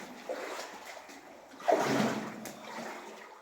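Feet wading through shallow water in a sandstone cave, a soft slosh and splash that swells in the middle of the short stretch and then fades, heard alone at moderate closeness.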